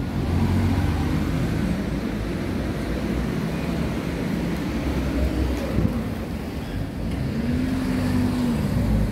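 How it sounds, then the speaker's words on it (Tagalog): Cars speeding along a busy road, a steady loud roar of passing traffic with engine hum and rushing wind-like noise throughout, with no talking. "Ang lakas nilang magpatakbo."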